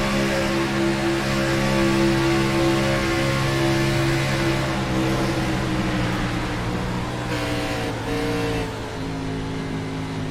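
An onboard race car engine roars loudly in an Xfinity Series racing video game, a sustained high drone at full speed with slight pitch shifts around shifts and corners.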